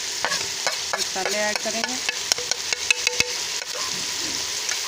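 A spoon scrapes and clinks around a pan of spices frying for tindy gosht. A run of quick metallic taps rises over a constant close sizzle, and a voice speaks briefly.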